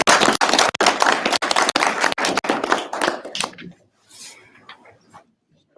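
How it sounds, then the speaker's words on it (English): Audience applause at a conference day in Africa, a dense burst of clapping hands that thins out and trails off into a few scattered claps and near silence. "Can we just give Prof another round of applause?"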